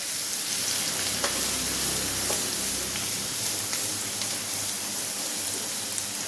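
Grated ginger and garlic fry in hot oil for a masala bhindi, a steady close crackling sizzle that carries evenly throughout with a few brighter pops, no voices.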